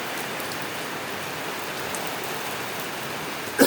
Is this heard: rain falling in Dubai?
yes